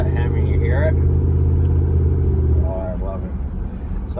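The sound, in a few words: Hemi truck engine running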